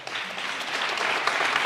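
An audience claps steadily during the Colorado governor's State of the State address, a dense wash of applause that holds even and slightly swells.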